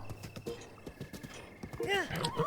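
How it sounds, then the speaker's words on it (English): Horse hooves clip-clop in a steady rhythm in Breath of the Wild, the mount large but slow, under continuous game music with a whinny near the end and a voice talking over it. "This horse is big, but he's not fast."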